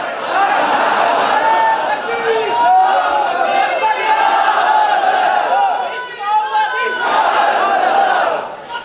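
A large crowd at a religious gathering shouts slogans in unison, a loud sustained roar of many voices that briefly dips before swelling again.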